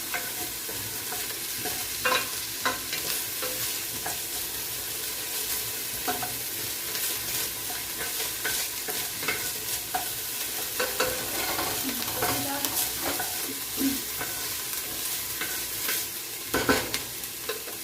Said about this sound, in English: I'm just gonna saute some onions here